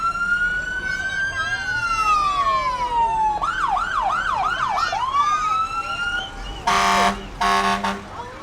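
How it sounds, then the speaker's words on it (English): Siren of Lilac Fire and Rescue Engine 2 rolling through a Christmas parade, a loud sweeping wail that shifts into rapid yelps, followed by two short blasts of a deep air horn near the end. "Followed behind them is Lilac Fire and Rescue Engine 2"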